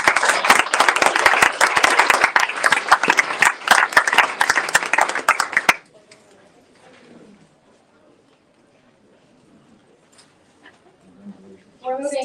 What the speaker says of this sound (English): Let's give another round of applause for Ms. King